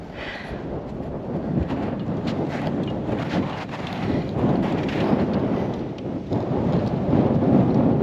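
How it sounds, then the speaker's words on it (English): Steady, cold winter wind roars and buffets the microphone on a bike-packing trip through the Dutch countryside, a continuous low rumble with no speech. "This wind is so cold."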